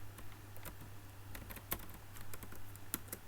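Fingers typing on a computer keyboard, a fast patter of light close clicks with a couple of sharper key strikes, quiet over a low electrical hum, no speech.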